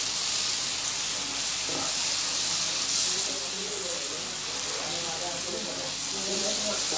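Spice masala frying in oil for a vegetable dish, a steady close sizzle with soft crackle throughout, under a quiet voice speaking.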